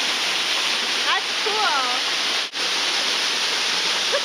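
Waterfall at Niagara's Bird Kingdom heard from just behind the falling water, a loud, steady broadband roar filling the whole clip, with bird calls and a brief voice over it.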